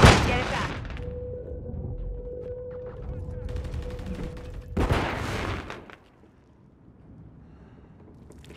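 Gunfire and a grenade blast from the video game Modern Warfare 3, a sustained rattle of shots followed by a loud burst near the five-second mark, then a quieter tail, with game voices calling out over the action.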